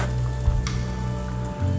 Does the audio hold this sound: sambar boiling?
yes